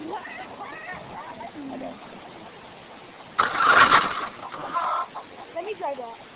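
Chickens clucking and squawking as a radio-controlled Hummer car chases them outdoors, with a louder burst of commotion midway and people talking over it.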